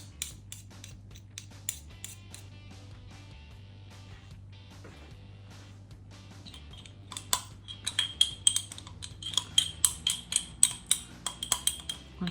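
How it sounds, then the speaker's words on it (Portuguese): A metal spoon clinks and taps against a jar of sourdough starter, a steady run of light strikes turning to sharper, brighter ringing clinks toward the end. "Essa colher aqui tá meio grande para esse pote. Vamos trocar de colher aqui."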